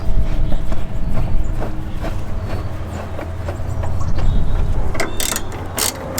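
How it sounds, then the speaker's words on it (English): A socket ratchet clicks in quick uneven bursts while snugging the headlight housing screws on a Chevy Equinox, close and loud, with a few sharp metallic knocks near the end. "get it started with your fingers, and then go ahead and tighten up with the socket"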